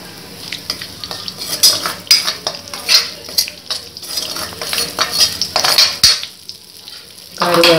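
Fennel seeds, cinnamon and cloves crackle and sizzle in hot oil while a metal spoon stirs and scrapes the pan in irregular bursts, loud and close, with no talk.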